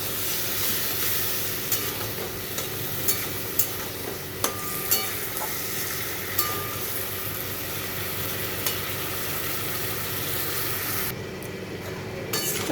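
Cauliflower curry sizzles steadily in a pan as a little water goes in, with a continuous frying hiss and scattered clinks from a stirring spoon, close and fairly loud, easing off near the end.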